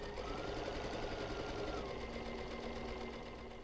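A sewing machine runs a straight stitch through fabric for a casserole hot pad, giving a steady, close, rapid mechanical whir that tapers slightly toward the end, with no talking.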